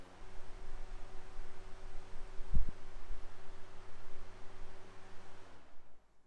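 EGO POWER+ portable misting fan runs on its turbo setting, a steady low motor hum and airy whoosh with a brief thump midway, cutting off near the end.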